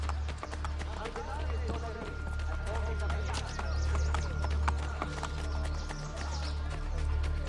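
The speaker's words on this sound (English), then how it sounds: "I'll use some horses for there." A horse galloping in the Assassin's Creed Brotherhood video game, rapid rhythmic hoofbeats running continuously under someone talking, with background game ambience.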